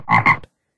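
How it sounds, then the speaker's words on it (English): A frog ribbit alert tone from auction-watching software plays as a single short, loud double croak, then cuts to silence. "By default, this will play a frog ribbit sound."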